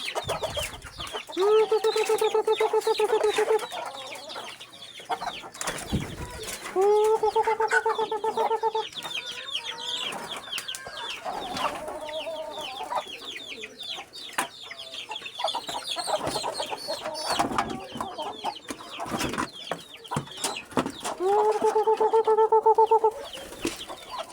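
Chickens cluck and squawk around a feeding of mixed grain for chickens and pigeons, with repeated loud bursts of fowl calls rising and falling close by over a busy farmyard background.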